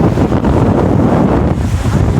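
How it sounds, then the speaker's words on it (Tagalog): Strong wind buffets the microphone in a continuous roar, with the wash of ocean waves blended underneath. "Malakas ang hangin, malakas ang alon."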